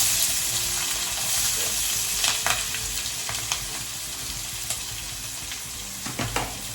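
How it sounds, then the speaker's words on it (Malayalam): Sliced onions and green chillies sizzle and fry steadily in hot oil while being stirred for a tomato rice lunch, a continuous close crackle with occasional scraping clicks and no talk. "സവോള, പച്ചമുളക് ചേർത്തിട്ട് വഴറ്റും."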